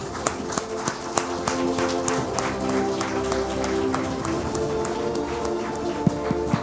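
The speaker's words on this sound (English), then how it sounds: "We should all stand and clap for him." A conference audience at a summit gives a standing ovation, scattered claps at first building into steady, fairly loud applause with a few sharper individual claps near the end.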